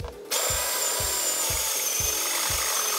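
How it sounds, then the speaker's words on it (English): A power drill fitted with a step bit cutting a hole in the body of a Toyota MR2, a loud steady whine with a rhythmic pulsing grind about twice per second, close, no talk. "I'm just gonna drill a hole here with a step drill and then run that cable through there."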